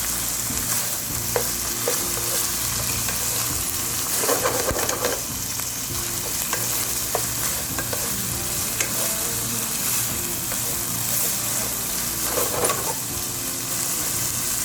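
Mutton liver (kaleji) frying on a tawa, a loud, constant sizzle close by with occasional scraping stir strokes rising over the hiss, no one talking.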